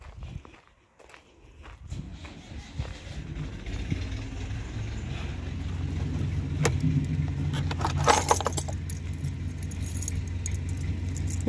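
Keys jangle in a hand as they are picked up on a village farm before a trip to buy animal feed, mixed with nearby footsteps and steady low rumble, a few sharper metallic bursts standing out.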